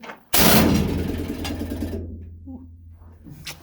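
A pneumatic rock drill at a gold mine in Cripple Creek, Colorado bursts on abruptly with a loud, harsh mechanical rattling roar, runs for about two seconds, then cuts off, leaving a brief voice and quiet.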